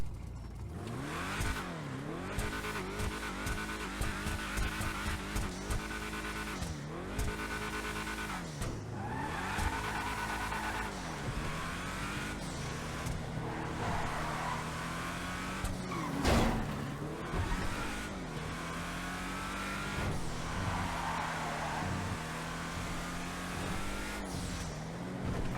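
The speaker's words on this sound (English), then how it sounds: "We're going to do a sound test on the car" Vapid Dominator GTT muscle car in GTA Online, its engine revving repeatedly in loud bursts and dips, building to higher revs with brief tire squeal and a sharp bang near the middle, heard outdoors with no talking.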